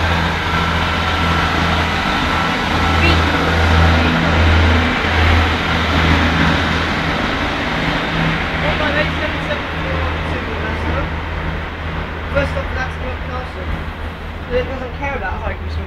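A Class 158 diesel multiple unit at Lincoln Central, its engine running steadily with a low droning hum throughout, under loud, continuous station ambience and speech.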